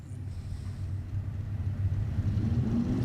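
Drag racing cars launch off the line at a bracket racing event, heard as a steady, loud low engine rumble that builds slightly toward the end, with no talk over it.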